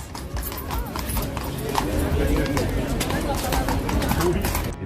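Horse hooves clip-clop on hard ground near a Royal Guard post, a busy irregular clatter under constant crowd chatter and voices.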